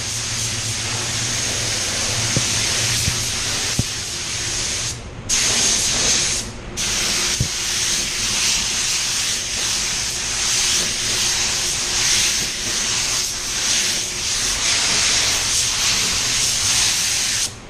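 Spray gun applying sealer onto raw plastic, a steady loud hiss that runs almost continuously, broken by a couple of brief pauses near the middle before resuming at full strength.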